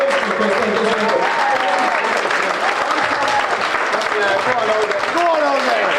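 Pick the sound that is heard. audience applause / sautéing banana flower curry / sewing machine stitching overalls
audience applause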